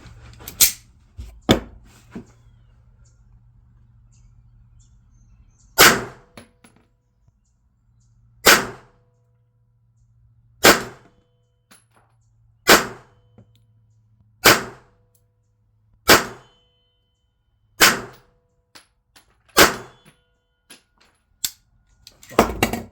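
A Colt 1991A1 .45 ACP pistol firing Blazer 230-grain full metal jacket steel-cased rounds, with about ten sharp, loud single shots spaced a couple of seconds apart over quiet background.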